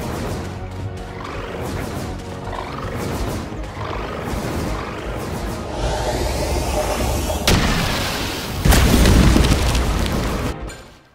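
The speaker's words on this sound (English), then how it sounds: "Sounded like an explosion and a massive rock slide." An explosion and massive rock slide in the video game DCS Justice League Cosmic Chaos: a sustained, dense roar of crashing debris that swells, peaks with a heavy boom near the end, then cuts off abruptly.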